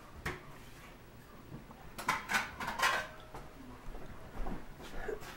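Plates and dishes clink and clatter in a home kitchen, several scattered knocks and rattles of crockery and cutlery, fairly quiet and close, with short pauses between handling sounds.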